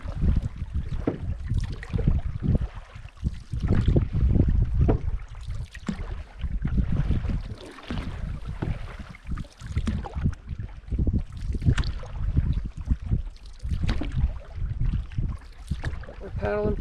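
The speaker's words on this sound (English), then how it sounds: "We're paddling pretty hard. Trying to get to camp." Canoe paddling on Yellowstone Lake, repeated splashing paddle strokes and water lapping against the hull in an uneven rhythm, with wind buffeting the microphone throughout.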